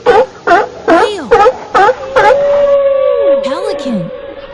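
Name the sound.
whale call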